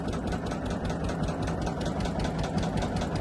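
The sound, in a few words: fishing boat engine running in reverse on river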